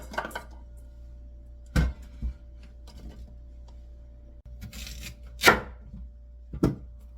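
A knife chops through vegetables for white kimchi on a kitchen board, a few sharp, separate strikes spread unevenly across the clip, fairly close and distinct against a quiet room with no talking.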